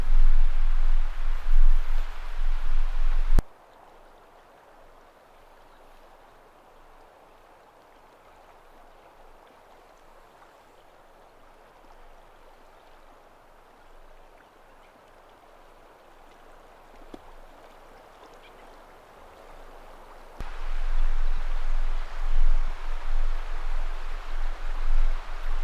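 Broad, shallow Metolius River flowing past a campground, a steady soft rushing wash that is louder at the start and end and quieter and more distant through the middle.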